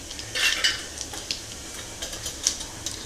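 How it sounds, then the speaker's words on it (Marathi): Cumin and mustard seeds dropped into hot oil with turmeric, salt and asafoetida, giving light crackling and clinks of a spoon stirring in a pan, close and fairly quiet. "या गरम तेलातच आपण आता हिंग, हळद, मीठ आणि जिरे वगैरे टाकून घेणार आहोत"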